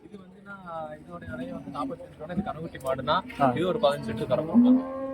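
A dairy cow lows at a cattle market in Karimangalam, Dharmapuri, with a long moo rising near the end, heard under close conversation between people.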